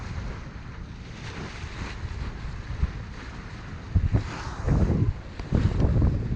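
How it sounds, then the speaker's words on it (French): A sailboat motors along under engine off the west point of Ibiza near Es Vedrà in gusty, irregular wind, with a low steady engine hum beneath wind buffeting and splashing water that grows louder in bursts toward the end. "On est au moteur parce que le vent est vraiment irrégulier."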